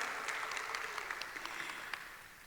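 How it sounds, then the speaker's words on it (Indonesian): An audience at the ninth Festival Boys media art forum applauds softly on request, a faint, fairly distant patter of clapping that slowly fades over the few seconds. "Boleh kita tepuk tangan dulu untuk Festival Boys yang ke-9."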